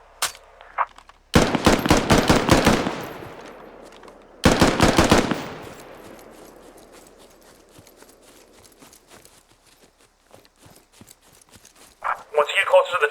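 Two loud, rapid bursts of machine gun fire in the video game Squad rattle off in quick succession, each trailing into echoing reverb and scattered distant shots, with a brief burst of other game sound near the end.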